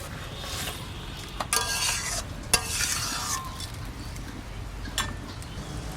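Gangchela fish curry stirred in a pan, with close scraping strokes and a few sharp utensil knocks over a low sizzle, and no talk.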